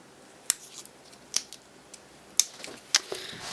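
Scissors cutting open a childproof battery blister pack: four or five sharp, separate snips spaced about a second apart, close and crisp against a quiet background.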